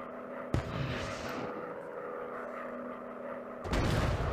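A zeppelin explodes in a VR warplane game set over the Pacific, a sudden sharp blast followed by a long rumble under engine drone, then a second heavy burst near the end.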